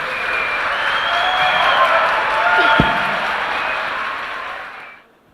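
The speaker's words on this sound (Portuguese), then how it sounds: "Peço uma salva de palmas de boas-vindas ao Dr. Sumariva." Audience applause welcoming a guest lecturer at a law conference in a Catholic college auditorium, steady dense clapping from a large crowd for about five seconds that stops abruptly, with no one speaking.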